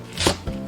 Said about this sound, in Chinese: 准备几根蒜苗、蒜白，斜刀切断